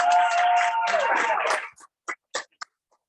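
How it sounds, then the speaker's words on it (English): An audience applauds at a student awards ceremony, a dense burst of clapping for about a second and a half that quickly thins to a few scattered, isolated claps before stopping. "So please give her a round of applause."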